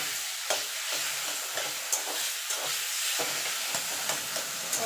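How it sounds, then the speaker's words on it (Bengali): Taro leaves cooked with a hilsa fish head are stirred in a sizzling pan, with a constant frying hiss and repeated rhythmic scrapes of a spatula close by. "ভালো করে নেড়ে নেবো"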